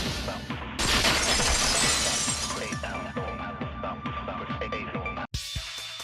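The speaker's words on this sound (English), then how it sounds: "If it wasn't the window, then what broke to make that sound? A vase." A vase shatters in the video game Danganronpa 2, a loud burst of breaking glass-like shards that keeps tinkling and scattering for several seconds, then cuts off abruptly.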